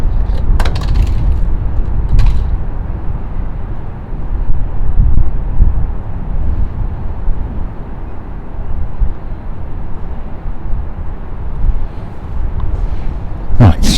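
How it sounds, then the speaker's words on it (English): A Ryanair airliner rolls along an airport runway, heard as a steady low rumble that fills the clip at moderate distance, with a few sharp clicks near the start and end. "Ryanair is going down there. Could have gone the whole length of the runway, but he didn't."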